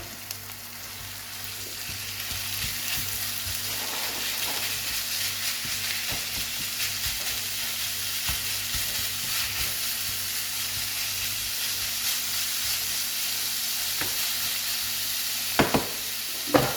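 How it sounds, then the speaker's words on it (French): Minced meat sizzles in a frying pan with onions and garlic for a hashis parmentier, a steady broadband frying hiss with occasional stirring scrapes and a few sharper clicks near the end, close and continuous. "Voilà, on va rajouter la viande."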